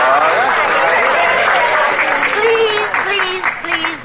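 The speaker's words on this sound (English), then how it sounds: "Please, no applause." Studio audience applause in a radio comedy broadcast, a steady wash of clapping from a crowd that carries on throughout, with voices talking over the clapping toward the end.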